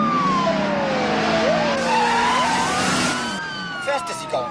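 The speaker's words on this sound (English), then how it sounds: "Not the Dodge Diplomat. That old 318. Hear it?" A Dodge Diplomat with an old 318 engine roars along at high speed under a wailing, sweeping police siren, with the engine note shifting as it passes; people talk over the noise.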